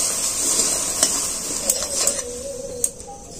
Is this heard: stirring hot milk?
yes